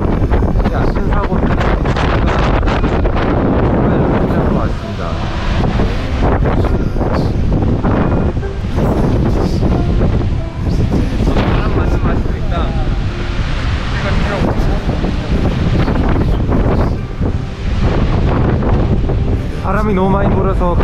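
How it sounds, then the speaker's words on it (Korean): Strong coastal wind in Seogwipo, Jeju Island, buffets the microphone with loud, continuous roaring gusts, and high waves crash along the shore beneath it. "바람도 많이 부니까 파도도 높아서"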